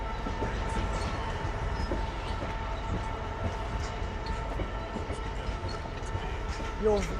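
A long Drax freight train rolls past at Doncaster on the East Coast Main Line, with a continuous rumble and rhythmic wheel clatter while voices talk faintly nearby.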